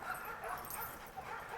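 Alaskan husky sled dogs in a dog yard yip, whine and bark in a faint, distant chorus, with overlapping high cries and a muffled voice underneath.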